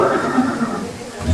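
A horse neighing, named as Chetak, the loyal warhorse of Maharana Pratap, a loud close whinny with faint background murmur.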